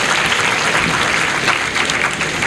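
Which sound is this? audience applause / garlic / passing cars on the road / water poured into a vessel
audience applause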